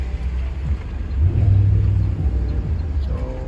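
Traffic on Highway 401 next to the Yorkdale Mall parking area rumbles as a steady low wash, with one vehicle swelling louder as it passes, and a voice speaks faintly at moments.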